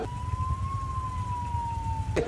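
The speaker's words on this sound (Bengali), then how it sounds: "একটা অ্যাম্বুলেন্সের আওয়াজ ছিল" A single ambulance siren tone holds steady and drifts slightly in pitch over low traffic rumble, ending with a sharp burst near the end.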